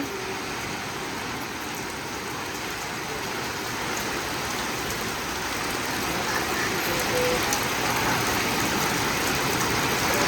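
Steady rain pours down on a village in a dense, even hiss that swells slightly louder toward the end, with a faint low rumble underneath.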